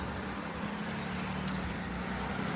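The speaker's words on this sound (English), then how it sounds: "as you can hear behind me, traffic has really picked up here in our idyllic suburb" Steady road traffic in a suburb passes as a continuous low rumble with constant broadband hiss, one brief higher swish near the middle, no voices.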